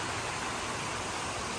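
Uvita waterfalls in Costa Rica, a steady broadband rush of falling water heard close and continuous, with no voices over it.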